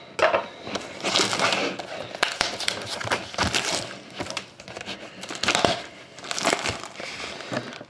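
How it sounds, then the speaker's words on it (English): Plastic wrap being cut and torn off a 2011-12 Panini Dominion hockey card box, close and loud crinkling and ripping in repeated bursts with sharp snaps between them. "so I'm going to cut the plastic first."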